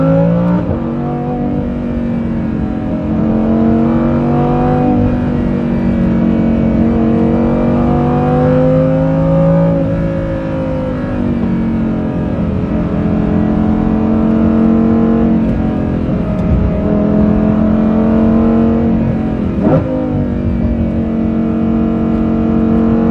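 Lamborghini Huracan Performante fitted with an Inconel Kline exhaust, revving and accelerating loudly and up close for a sustained stretch, its engine note climbing and falling repeatedly.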